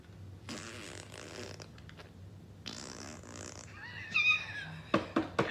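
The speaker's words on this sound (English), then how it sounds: "That'll be funny fart effects." Comic fart sound effects come in bursts: a couple of longer blasts up front, then a series of short, sharp pops near the end, all fairly loud with no talking.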